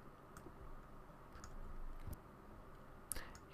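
Several faint, sharp computer mouse clicks land at irregular intervals over quiet background hiss while software is reinstalled on a Windows XP PC.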